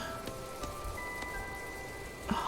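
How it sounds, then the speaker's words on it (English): Rain falls steadily in the My Time at Portia video game, a soft constant patter of drops with a few faint tonal game sounds layered over it and no voices. "Oh man, this rain is atrocious."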